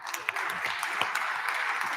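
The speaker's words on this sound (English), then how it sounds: "So please give them a round of applause." Applause from lawmakers and visitors on a state House floor during a legislative session, a steady broad wash of clapping filling the whole moment at even loudness.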